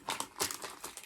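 Paper crinkles and rustles in a row of close, fairly loud bursts, the rattling texture running the whole short moment with no talk.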